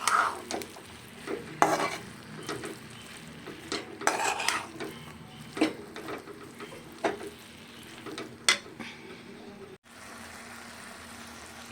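Boiled avarekalu field beans sautéed with fenugreek leaves in a pan: a spatula repeatedly scrapes and clinks against the metal over a faint sizzle, irregular stirring strokes at close range with no talk.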